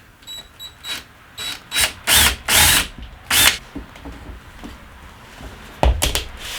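A power drill whirs in several short bursts, close and loud, with pauses and clicks between runs, during a school bus conversion.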